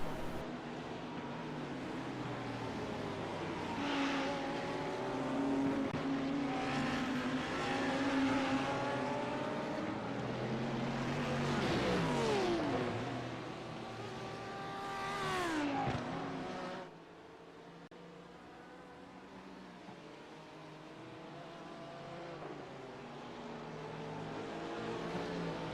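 Race cars from a GT endurance sim race, including a GT BMW, roar through a chicane, engines revving with rising and falling pitch as several cars brake and accelerate past, then the sound drops to a steadier, more distant drone.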